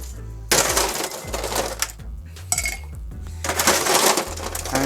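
Ice cubes are scooped and dropped into a shaker or glass for a chocolate hazelnut martini, giving loud, close clattering rattles and clinks in several bursts with brief pauses between.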